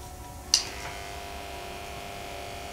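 A DEKO variable speed jigsaw switched on with a click and left running, giving a steady, fairly quiet electric motor hum and buzz that holds evenly throughout with no talk.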